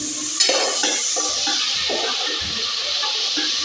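Onions frying in hot oil in a home kitchen pan, a steady broadband sizzle with scraping stir strokes, close and fairly loud throughout with no talk.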